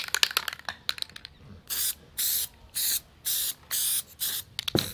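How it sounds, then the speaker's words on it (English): Spray glue from an aerosol can goes on in a series of six short, even hissing bursts while a cleanup sluice is being built, close and loud, after some faint clicks and handling sounds. "go ahead and spray our glue in"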